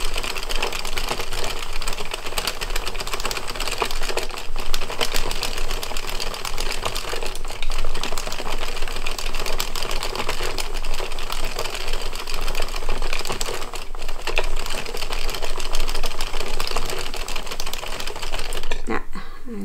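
A knitting machine carriage works through a dog sweater in steady, busy clattering passes, loud and continuous with faint talk underneath.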